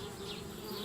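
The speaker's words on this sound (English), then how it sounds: "Darn bees, trying to move into our tree house." Bees swarm at a tree house in the Anna's Quest video game, giving a steady, close, droning buzz with no break and nothing else heard.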